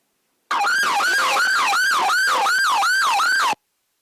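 Police siren from a played recording of an arrest in Tacoma, Washington, a loud wailing up-and-down cycle repeating about seven times over three seconds, alone and cut off abruptly at both ends.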